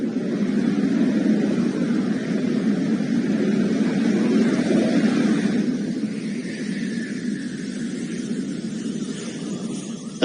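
A Jaguar jet aircraft taxis at an air show with a steady, broad turbine roar that stays fairly loud throughout, easing slightly in the second half, with no talking.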